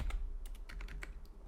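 Keystrokes on a computer keyboard while entering code, a quick irregular run of close, crisp clicks with short pauses between them and a sharper final tap, over a low steady hum.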